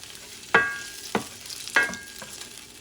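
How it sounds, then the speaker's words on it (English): Red pepper, green pepper and onions sautéing in a pan, a soft background sizzle broken by three sharp stirring clacks of a utensil against the pan, evenly spaced and close. "I'm going to saute this baby"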